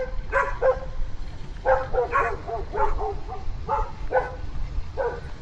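Several large country-type dogs in a city yard bark loudly in quick bursts of two or three, repeating steadily over a faint outdoor hum heard while walking along a Dallas street.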